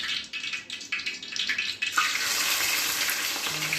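Onions dropped into hot oil for a fish curry, a burst of loud, close sizzling frying that jumps up suddenly and then holds a steady hiss after a few stirring scrapes.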